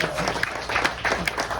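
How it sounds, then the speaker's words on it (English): A short burst of audience applause at a comedy show, dense clapping at moderate loudness with some voices mixed in. "Everybody give her one more big round of applause."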